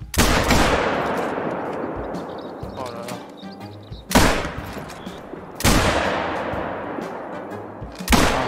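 Loud gunshots boom in theHunter: Call of the Wild as hunters fire at game, four sharp reports with long reverberant tails at roughly even gaps, rolling out across open terrain.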